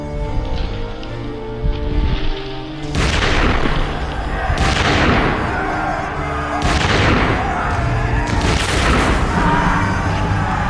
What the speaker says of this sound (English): They were just 40 paces away when the Duke gave the order to fire.